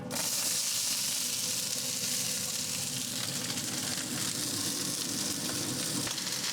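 Vegetables sizzle steadily in grapeseed oil on a Yoder YS640S pellet smoker, a continuous close frying hiss that holds level throughout with no talk.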